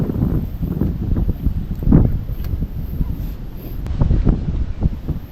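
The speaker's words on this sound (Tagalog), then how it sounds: "Medyo mahangin guys at saka malamig." Wind gusts over a small fishing boat at sea, a rough, low rumbling buffet against the microphone with uneven swells and a faint high whine, no talking.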